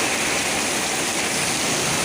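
Heavy rain pours down with strong wind in Bogor, a loud, dense, unbroken wash of noise without pauses or distinct gusts.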